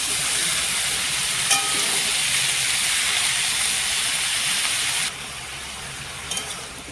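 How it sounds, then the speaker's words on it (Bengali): Cauliflower frying with onions in a pan, a steady loud sizzle that carries on without pause, with a couple of faint clinks and a drop in level toward the end. "পেঁয়াজের সাথে ভালো করে ভেজে নিয়ে যাচ্ছি"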